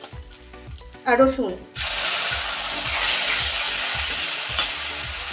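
Onion and raisin paste for a Rui fish curry hits hot oil in a pan and bursts into a loud, steady sizzle that carries on to the end, after a brief spoken remark and a rhythmic clatter of utensils.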